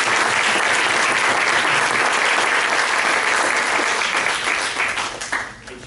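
Sustained, dense applause from the audience at a Manchester Township, New Jersey school board meeting, steady and loud for several seconds before thinning out at the end.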